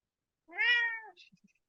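A single cat meow, close and clear, rising then falling, breaks into an online webinar and is followed by a few faint soft clicks.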